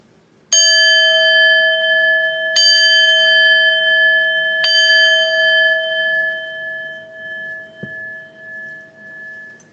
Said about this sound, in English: We're chiming out.